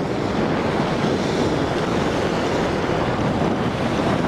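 Ocean surf at the water's edge on Long Beach, a steady loud wash of breaking waves with wind buffeting the microphone, continuous and close with no voices.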